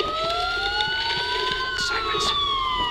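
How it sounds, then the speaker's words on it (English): Police sirens wailing in the Batman Arkham Asylum video game, several overlapping rising and falling tones held loud and steady throughout, with no talk. "Sirens. The police."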